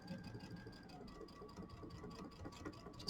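A sewing machine stitching quilt blocks runs with a fast, even mechanical whir and rapid needle ticking, close and moderately quiet, steady for the few seconds without talk.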